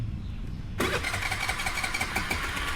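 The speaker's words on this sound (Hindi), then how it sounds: "let me turn on the bike and इसका एग्जॉस्ट नोट भी सुनना है तो सुना देता हूँ" A Suzuki Burgman 125cc scooter engine fires up suddenly with a one-touch start after a quiet moment, then settles into a steady, buzzing idle close by.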